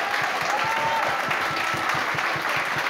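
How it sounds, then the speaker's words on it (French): An audience at an adult costume contest claps loudly and steadily for the participants, a dense sustained applause with a brief whistle near the start. "on va vous demander de les applaudir bien fort"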